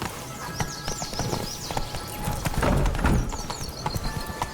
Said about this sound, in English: Come on, Roach.